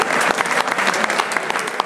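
A crowd claps for the podium winners at a cycling race prize ceremony in Mauvezin, a brisk burst of dense outdoor applause, close and loud, with no speech over it.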